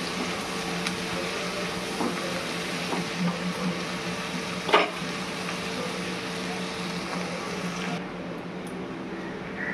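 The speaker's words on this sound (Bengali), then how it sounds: "আরো মিনিট 5 আমি এটা ফ্রাই করবো" Chicken fried rice with grated garlic frying steadily in a pan, a constant close sizzle running throughout with a few faint clinks of stirring.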